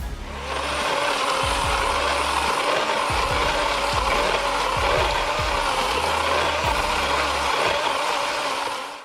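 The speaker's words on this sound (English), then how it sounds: "Works WG384 is an eco-friendly battery-powered automatic tree-cutting tool." A battery-powered WG384 automatic tree-cutting tool with a brushless motor and automatic slide system runs steadily and loudly for the whole stretch, with a rattling mechanical drone and repeated low clunks, no voices.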